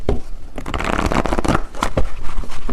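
Tarot cards are shuffled and handled in a dense, continuous riffle of papery flutters and snaps that runs loud and close throughout, with no talk.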